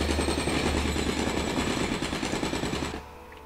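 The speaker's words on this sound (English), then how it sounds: "A modern kind of jackhammer in order to mine effectively." A modern jackhammer used for mining in the video game Elex hammers in a rapid, continuous mechanical rattle, loud and close, running steadily for about three seconds before cutting off abruptly into quiet.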